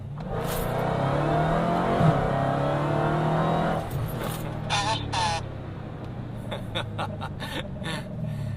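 A Dodge Hellcat muscle car engine roars hard as it accelerates at full throttle, loud and close, followed by quieter road noise and some clicking and talking.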